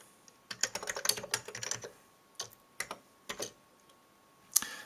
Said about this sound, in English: So this means if we now type in a string as a parameter